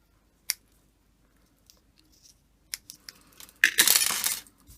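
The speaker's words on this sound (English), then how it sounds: "Let's just trim that up a little bit" Scissors trim papercraft card with a few isolated snips, then a denser burst of close cutting and rustling near the end, with quiet gaps between the cuts.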